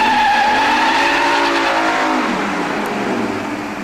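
A race car at a 2003 drag race in Norwalk screams past loudly, its high engine note sliding downward as it moves away and gradually fading.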